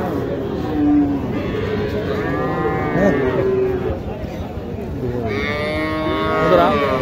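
Bull calves low and moo several times at a busy cattle market in Naogaon, with loud bellows rising above a steady crowd murmur and background chatter.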